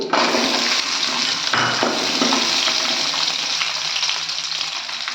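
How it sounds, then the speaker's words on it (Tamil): Dried red chilies and garlic cloves frying in hot sesame oil for coriander chutney, a loud, dense, continuous sizzle up close with a few stirring bumps, no voices. "கொத்தமல்லி சட்னி வதக்குறதுக்கு நல்லெண்ணெய் ஊற்றிக்கலாம் எண்ணெய் காஞ்சிருச்சு பத்து மிளகாய் வத்தல் பத்து வெள்ளைப்பூடு"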